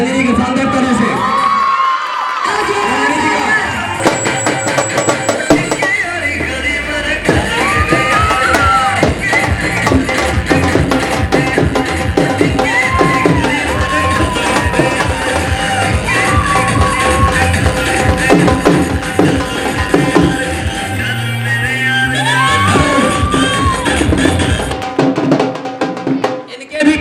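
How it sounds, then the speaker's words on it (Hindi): An audience welcomes Ranjani at an event with cheering and whoops over music, a loud, sustained crowd noise with bursts of shouting. "रंजनी जी को मैं चाहूंगा शानदार ताली से स्वागत करें।"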